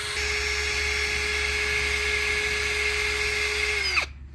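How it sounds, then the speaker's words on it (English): A steady high-pitched power drill whine with a wire brush attachment, cleaning a Citroen C2 wheel hub, runs continuously with a metallic whirring edge, then winds down abruptly at the end. "you can clean the wheel hub surface with a wire brush or a wire brush adapter"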